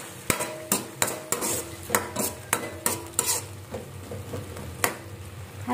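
Eggplant and string beans are stirred in a pot of simmering liquid, a regular series of scraping, clanking strokes from a utensil against the metal pot over a soft bubbling sizzle, close and alone.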